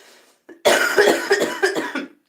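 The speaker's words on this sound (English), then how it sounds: "I finally stopped coughing." A person coughs hard in a loud, close burst of several rough coughs after smoking weed, following a brief quieter throat sound.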